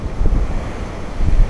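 Wind gusts and sea waves wash ashore at a Mexican beach, a rumbling, buffeting roar with microphone wind noise and no voices.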